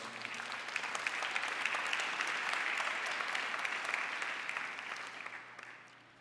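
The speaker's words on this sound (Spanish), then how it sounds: "Denle un aplauso fuerte al Señor" A church congregation applauding during a Spanish-language service, dense clapping that swells, holds steady, then thins and fades out toward the end, with a low steady hum beneath.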